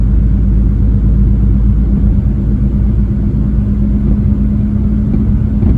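Car climbing a hill in fourth gear at about 35 mph and 1500 RPM, with a loud, steady low engine rumble that stays continuous and close throughout.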